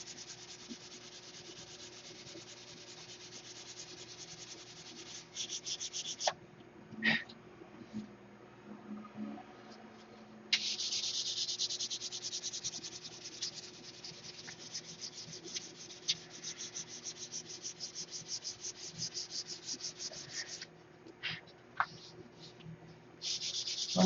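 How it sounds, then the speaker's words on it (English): Hand sanding with 320-grit sandpaper to remove 80-grit scratches, a steady close scratchy rubbing that runs in long continuous stretches with short pauses and a few louder strokes, no talking. "you sand with 320 until the 80 grit scratches come out"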